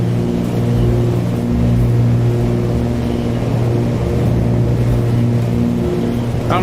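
Twin piston engines of a Cessna 310R in Microsoft Flight Simulator drone loudly and steadily, a deep, even hum with stable tonal layers and no pauses.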